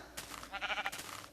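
A Minecraft sheep gives a single short, wavering bleat, clear and close, alone with no talk over it.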